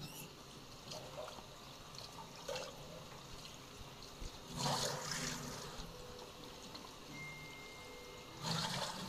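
Water poured out of a cooking pot while making a meat soup, intermittent splashing gushes over a quiet background, with two stronger pours partway through.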